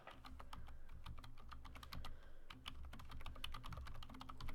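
Quiet, steady typing on a computer keyboard, a dense run of light clicking keystrokes at close range with no talking.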